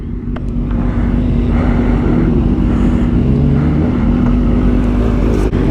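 Motorcycles idle and rumble together at a large outdoor motorcycle meet in Atlanta, a loud continuous engine drone with a steady low hum close by.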